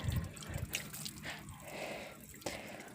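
Water trickles and drips out of a punctured tractor tyre after it has been washed, a soft, uneven patter of drops and dribbles heard close by with no talk.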